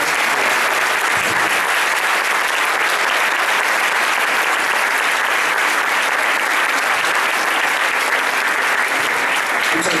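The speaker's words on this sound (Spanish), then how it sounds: "Le damos por favor un fuerte aplauso al doctor Luis Arturo." A large audience at a medical talk gives loud, dense, sustained applause, a continuous wash of clapping at even strength from start to finish.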